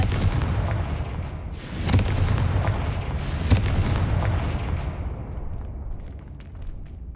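Explosions from a Confringo fire spell in Hogwarts Legacy, two loud booming blasts a second or so apart, each with a rumbling tail that fades slowly, no voices.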